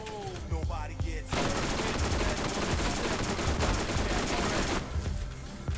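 Sustained rapid automatic gunfire from a high fire-rate weapon in the Borderlands video game rattles loudly for about three and a half seconds, with a voice talking briefly just before it starts.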